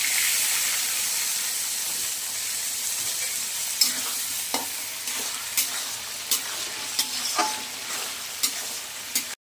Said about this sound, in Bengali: এবার আমি ছোলা, চিংড়ি মাছ, এক পিস মাছের তেল ছিল, সেটাও আমি সাথে দিয়ে হালকা করে ভেজে নেব।